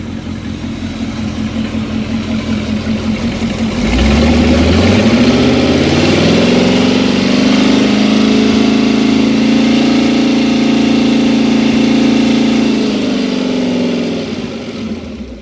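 A Ford Y-Block Interceptor 256 cubic-inch, 135 hp marine engine fires up around four seconds in and settles into a loud, steady, throbbing idle close by, running evenly before dropping off at the very end.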